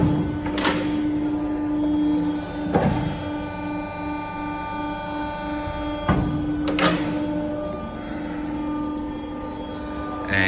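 An ACCURL heavy-duty hydraulic variable-rake guillotine, 3200 mm by 8 mm capacity, runs a cutting stroke: a steady hydraulic hum broken by several sharp metallic clunks and thumps, close and loud, with no talking.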